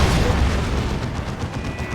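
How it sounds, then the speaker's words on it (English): Lascannon turret shots in Dawn of War 2, a dense, loud barrage of booming blasts and rumbling explosions blending into a continuous roar of battle. "Look at the damage from those las cannon turret shots"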